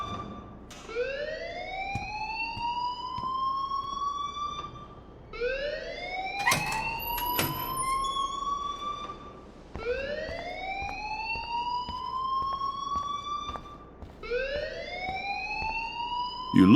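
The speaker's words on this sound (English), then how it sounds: "please turn off that alarm since that's your job" A fire alarm blares inside the video game Life is Strange, loud rising electronic whoops repeating four times in a steady cycle, with a sharp clattering burst partway through and no voices.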